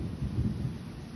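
Low thunder rumbles from a series of lightning strikes during a severe storm in Manchester, New Hampshire, rolling steadily at a distance with rain noise in the background.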